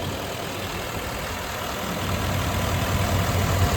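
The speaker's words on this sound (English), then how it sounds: "Engine is running beautifully." A 2018 GMC Sierra 3500 pickup idles close by with a steady low engine hum that swells slightly partway through, and no one speaks.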